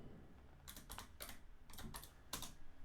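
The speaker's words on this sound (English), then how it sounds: "so you can just type it in there and then we can type it in here" Typing on a computer keyboard while entering a stream category, heard as several short bursts of clattering keystrokes with pauses between them, close and fairly quiet, with no talking over it.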